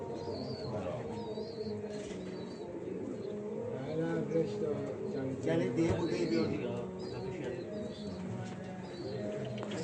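Racing pigeons returned from a race coo and rustle at the loft, soft repeated coos and chirps mixed with wing movement, while someone talks over them throughout.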